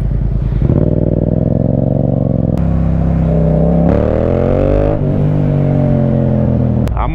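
A motorcycle cruising along at an easy pace, its engine droning loud and steady with rising and falling pitch as it shifts and accelerates, close to the rider throughout with no talk.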